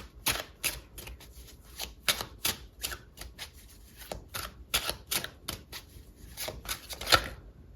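Tarot cards riffle and slap in repeated quick bursts close by, a crisp papery shuffling rhythm with short pauses between shuffles.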